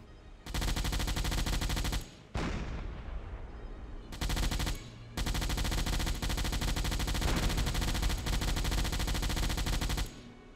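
Deck gun fire from a submarine in the naval game Silent Hunter 4, loud sustained bursts of rapid shots in long stretches separated by short gaps, with no talking.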